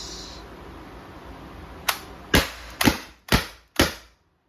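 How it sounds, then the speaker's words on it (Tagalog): An Umarex T4E TR 68 airgun revolver fires five sharp, loud, close shots in quick succession, each a crisp crack with a brief decay, after a quiet moment. "4 shots."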